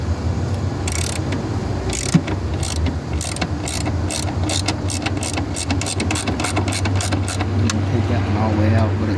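A ratchet clicks in repeated quick bursts while loosening a bolt on an oil catch can bracket, close and crisp over faint engine-bay noise, with a voice speaking between the bursts.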